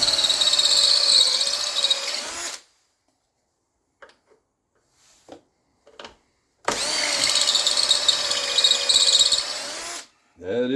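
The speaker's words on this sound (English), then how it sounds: "And then I'll use my 1/2-inch drill when I get close" A 1/2-inch power drill bores a bolt hole for a homemade chainsaw milling jig, running in two long, loud, steady bursts separated by a quiet gap with a few small knocks and handling clicks.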